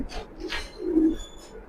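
A pair of racing pigeons cooing quietly nearby, a couple of low, throaty coos between faint scuffing sounds, with no speech.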